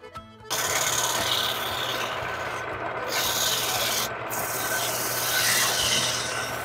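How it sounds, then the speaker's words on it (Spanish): Finer sandpaper rubs steadily across a cedar wood plate, a close, even rasping stroke that runs nearly unbroken after a brief start with two short gaps. "Lija más finita."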